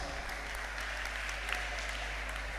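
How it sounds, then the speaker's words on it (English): Audience applause at a school or dormitory organization report event, a dense steady patter of many hands clapping at moderate distance, continuous and even throughout. "Please give applause."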